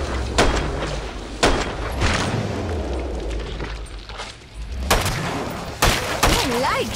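Gunfire in the Killing Floor 2 video game as zeds are shot: loud, sharp weapon reports and booming blasts land every second or so over a dense, rumbling game background.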